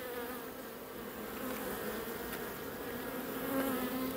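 Honey bees hum around an open hive during autumn colony preparations for winter, a continuous dense buzzing swarm with a few individual bees droning closer.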